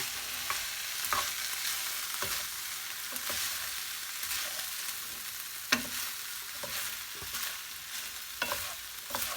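Food is stirred in a pan over quiet, continuous frying, with soft scrapes and occasional sharper clicks of the utensil against the pan.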